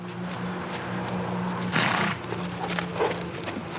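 Horses of the Garde républicaine neigh in a loud whinny at the training stables near Bastille, with hooves clopping and stamping and background hum throughout.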